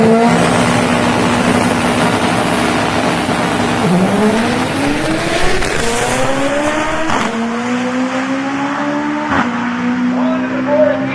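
A 1999 Honda Civic eight-second drag car at a drag-racing event roars loudly down the strip, its engine winding up and dropping at several gear shifts as it runs toward the finish line.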